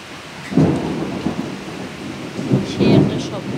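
Rainstorm with lightning in a Bangladeshi village, a steady rain hiss under two low rolling thunder rumbles, one near the start and another near the end.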